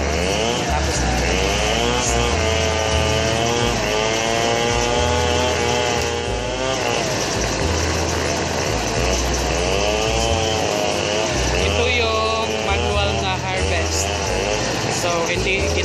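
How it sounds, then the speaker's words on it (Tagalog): A motor-driven rice threshing machine runs loud and continuous at harvest, its engine droning and wavering in pitch as it works, while people talk faintly under the noise. "sisimulan na yung pander na makina para matapos natin."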